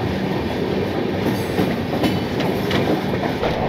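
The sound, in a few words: Puri Howrah Shatabdi Express train running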